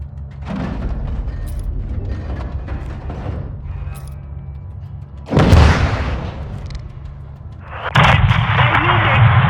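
Artillery fire in the Modern Warfare II campaign lands as heavy booming blasts, one big detonation midway and another crashing roll near the end, over a low battlefield rumble and scattered gunfire. Voices talk in between.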